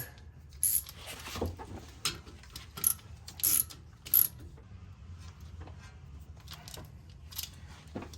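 Bolts on a Ford Expedition brake assembly are cranked down with a ratchet, giving short, sharp bursts of clicking spaced out between quiet pauses, close and fairly faint.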